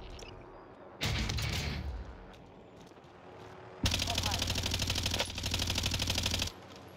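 Automatic gunfire in the battle royale shooter Warzone, two loud bursts of rapid rattling shots, the second longer and steadier, with quieter game ambience between them.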